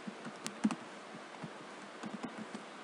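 Soft keystrokes tap on a computer keyboard, a few scattered clicks with short gaps between them, quiet and close, with no voices.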